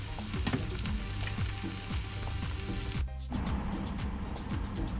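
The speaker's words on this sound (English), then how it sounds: "we're going to turn the heat down because we want it to simmer" Chicken tikka masala with chopped tomatoes simmers in a pan on lowered heat, a close, steady bubbling sizzle with scattered pops and ticks.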